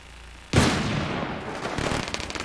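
Gunfire in an online multiplayer shooter erupts suddenly after a brief quiet moment, a loud burst followed by sustained rattling shots that gradually thin out.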